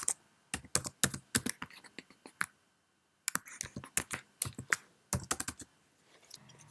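Mac keyboard typing an email in Outlook, crisp close key clicks in quick bursts separated by short pauses, with no one speaking.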